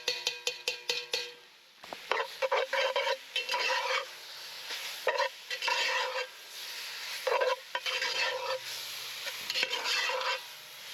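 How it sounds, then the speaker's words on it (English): Spices are stirred around a hot frying pan, with a spoon scraping and clattering against the metal in quick repeated strokes over a light sizzle, close up, with short pauses between bursts. "Give that all stir around."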